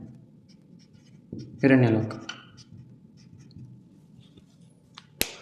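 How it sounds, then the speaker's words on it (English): A pen scratches briefly as a note is written down, with close, faint strokes near a short spoken phrase. "wait, I'll write this down"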